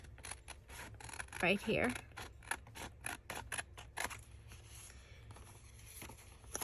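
Scissors cut out a paper heart for a junk journal: a quick series of crisp snips and paper rustles, close by, with a person talking over them.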